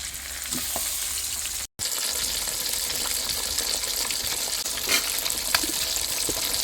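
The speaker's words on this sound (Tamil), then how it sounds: "ரெண்டு மீனாக வறுத்து எடுத்துக்கலாம்." Jilebi fish frying in oil for a village-style dish makes a steady, loud, close sizzle that runs nearly continuously, broken only by one brief dropout.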